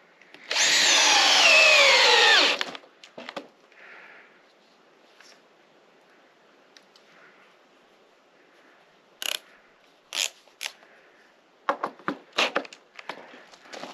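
Power drill unscrewing screws, one loud whirring burst near the start followed by quieter scattered clicks and clatter of handling, close by with no talk.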